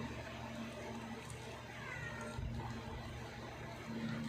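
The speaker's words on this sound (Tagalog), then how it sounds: "wag niyong pansinin yung pusa. Dahil pusa lang yun." A cat meowing faintly a few times in a home, the short calls rising over a low steady background hum, with no clear talk.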